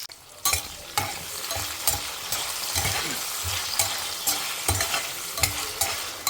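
Sliced onions dropped onto a ground paste in hot oil sizzle steadily while a spoon stirs them, giving repeated scraping knocks roughly every half second over the constant frying hiss.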